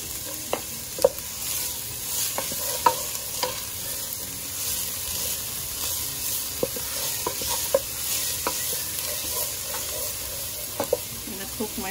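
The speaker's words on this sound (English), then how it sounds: "start sauteing our onion." Onion and garlic sautéing in a pan, a continuous close sizzle with repeated sharp clicks and scrapes as a utensil stirs and taps the pan, and no speech over it.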